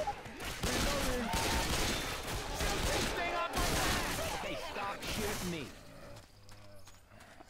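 Rapid gunfire bursts loud and close in Left 4 Dead 2 zombie combat, coming in dense volleys under voices talking before thinning out at the end.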